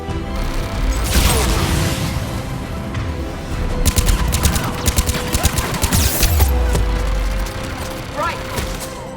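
Turret gunfire in the video game Mass Effect 3: dense, rapid bursts of shots and booms stack into a continuous barrage for most of the stretch, with someone talking over the battle.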